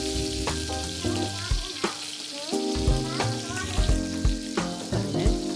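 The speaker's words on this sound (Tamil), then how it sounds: "இது நம்ம நல்லா ரோல் பண்ணி நம்ம ஃப்ரை பண்ணிக்கணும்." Rolled mutton kebabs fry in hot oil with a dense, crackling sizzle, punctuated by repeated sharp clinks and stirring knocks from a utensil, close up with no talking.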